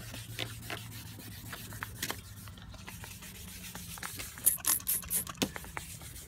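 A car headlight lens is wet-sanded by hand with abrasive paper, quiet close scratchy rubbing strokes at an uneven pace over a low background hum.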